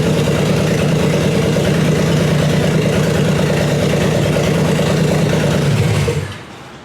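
A Chevrolet 327 V8 engine idles steadily with a deep, rumbling burble, loud and close, then cuts off abruptly near the end, leaving quiet.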